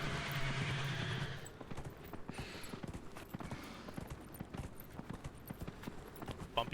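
A video game horse gives a clear neigh at the start, followed by soft clip-clopping hooves and faint background game ambience.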